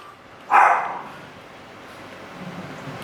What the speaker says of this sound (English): I have 3 dogs and a cat here today, so excuse me.